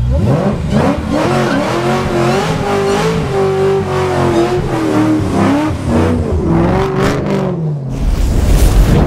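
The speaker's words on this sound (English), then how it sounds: "Burnout." A Ford vehicle does a burnout, its engine revving hard and steady at close range with rising and falling pitch and tire squeal building toward the end.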